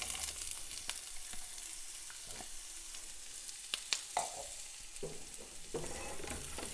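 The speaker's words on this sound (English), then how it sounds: "So we're going to just add our onions and jalapenos to our pan." Chopped onions and jalapeños sauté in a pan, a quiet sizzle broken by scraping stirs and clicking utensil knocks that grow busier toward the end.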